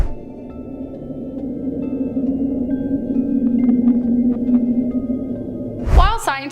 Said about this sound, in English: The Julia was a noise recorded on March 1st of 1999 by the United States National